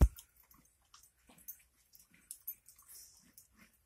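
A 14-year-old dog eats ice cream at a birthday, giving quiet, close, intermittent licking and chewing sounds in short bursts.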